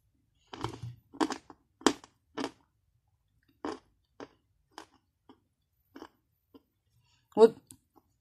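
Crunchy Bashkir clay with a halva-like texture is bitten and chewed close to the mic. Sharp crisp crunches come in an uneven series over a quiet background, with longer pauses between the later, softer bites.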